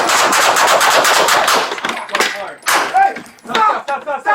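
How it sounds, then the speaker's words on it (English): Gunfire erupts as LAPD officers confront an armed burglary suspect: a rapid, loud volley of shots packed into the first moments, followed by scattered sharp bangs mixed with shouting voices. "Shots fired, shots fired."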